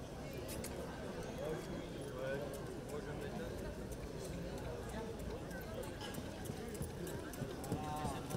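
Horse trotting at an AQPS show in western France in 2023, giving steady rhythmic hoofbeats while someone talks over them throughout.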